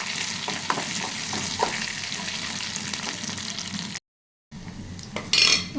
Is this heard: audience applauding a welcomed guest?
no